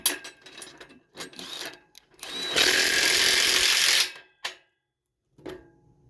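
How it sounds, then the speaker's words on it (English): A 3/4 impact wrench with a 3/4 socket driving a lag bolt on a rain sprinkler offset, giving short bursts, then a loud sustained rattling hammer for over a second, then brief taps, close by. "all we need is the 3/4 impact wrench, 3/4 socket"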